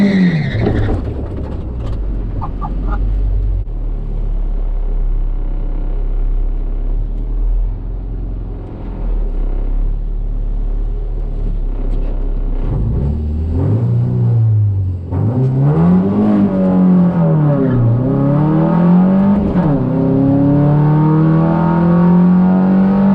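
A Nissan S13 launches on a drag strip pass, its engine roaring loud and close as it revs up through the gears, with rising and dropping pitch sweeps at each shift.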